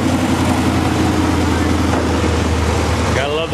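Diesel locomotive set 4166 idles close by with a loud, steady, deep rumble that holds an even throb throughout.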